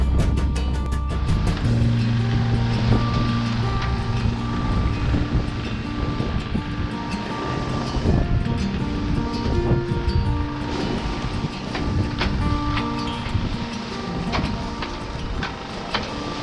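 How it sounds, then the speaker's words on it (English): Strong wind blasts across the microphone aboard a sailboat with a double-reefed main in heavy midday wind, a loud continuous roar with buffeting gusts and splashing water underneath. "We had heavy winds starting midday, and so we double reefed the main as we set out for a new island."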